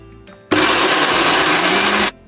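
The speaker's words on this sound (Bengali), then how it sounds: "সমস্ত উপকরণটা খুব ভালোভাবে আমি মিক্সিতে পেস্ট করে নেব।" Mixer grinder blends chicken paste with shahi garam masala and other spices, starting abruptly with a loud, steady high-speed whir for about a second and a half before cutting off, with faint background hum before and after.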